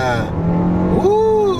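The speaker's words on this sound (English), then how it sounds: "I'm in sport mode. I'm gonna rev it a little bit." A 2020 Kia Soul GT-Line with a dual-clutch transmission revs and launches in sport mode, its engine note rising sharply and loudly, with someone talking over it.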